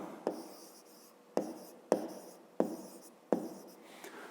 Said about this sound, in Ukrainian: Пишемо верба.